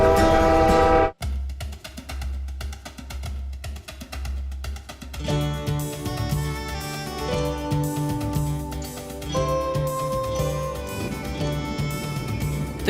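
A passenger train crossing Canada sounds its horn in long, loud, chord-like blasts over a deep rumbling engine and rolling wheels, the horn cutting out briefly before sounding again in sustained tones.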